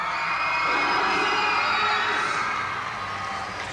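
Arena crowd at a 1999 netball match in Brisbane, Queensland Firebirds against Melbourne Kestrels, cheers and shouts in a steady, loud roar with high whoops and voices throughout.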